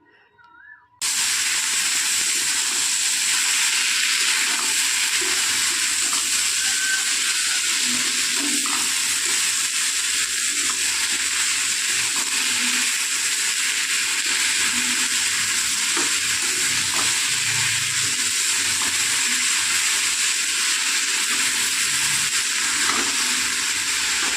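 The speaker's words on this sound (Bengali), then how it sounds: "তো চলো শাকটাকে ভালোভাবে ভাজা করে নিই" Boiled, squeezed-out leafy greens fry in oil with a dense, continuous hiss and sizzle, loud and close, running unbroken for the whole stretch after a quiet start.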